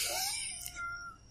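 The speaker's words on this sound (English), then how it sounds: "Oh, my poor cat." A cat gives a single drawn-out meow, fairly close and clear, that trails off over about a second with a faint hum underneath.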